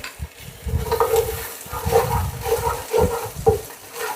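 A spoon stirs masala frying in a pan, giving scraping and sizzling strokes in an uneven rhythm, close and fairly quiet, with no one talking.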